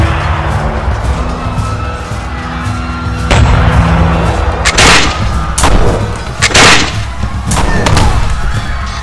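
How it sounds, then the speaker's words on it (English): Loud booming Spanish gunfire at the Battle of Cajamarca, several heavy blasts in irregular succession over a rumbling, chaotic background. "The booming of the guns"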